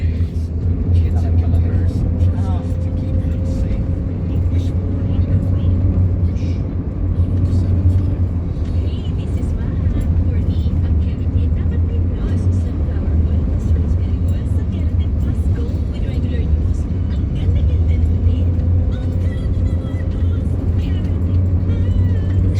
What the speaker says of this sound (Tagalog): Masyado namang maalog dito sa sasakyan.